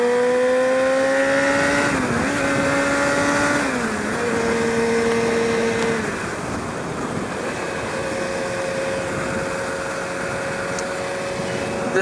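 A 2014 BMW S1000RR sport bike engine under way, its steady engine tone rising and dipping through throttle changes with a constant roar of wind and road noise throughout, close and loud, no talking.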